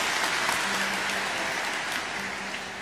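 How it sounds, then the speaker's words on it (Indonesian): A church congregation claps during a sermon, a loud, thick and continuous roar of many hands that slightly eases near the end. "Kasih tepuk tangan untuk Tuhan Yesus."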